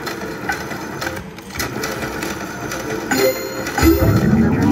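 Cash Machine high-limit slot machine at $50 per spin whirs and clicks through a continuous spin, with mechanical reel rattle and chimes building louder near the end, close and loud without talk.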